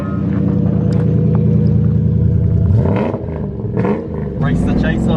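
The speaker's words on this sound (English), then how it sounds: "James needs someone to drive his V8 surf home" Toyota Surf fitted with a 1UZ VVTi V8 engine driving, a deep steady engine rumble that wavers with revs, under a man's speech partway through.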